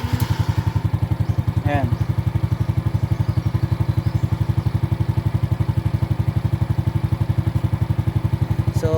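A motorcycle engine idles with a fast, steady thumping pulse, close and loud, while someone talks briefly over it.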